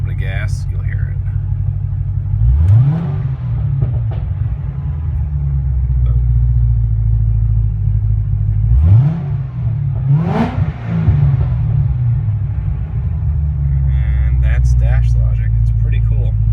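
A Chevrolet Corvette ZR1 engine idles with a deep rumble, then revs sharply twice, each rev climbing and falling back to a steady idle.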